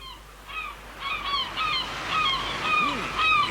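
A puffin colony on a sea island in a dramatised audiobook: layered honking, rising calls from many birds, moderately loud over a low surf rumble.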